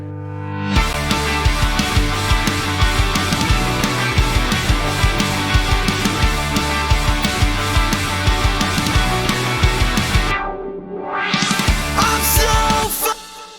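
A pop punk song with full band, loud driving drums and guitars, drops to a sparse, quieter rising transition near the end before crashing back in at full volume; no talking.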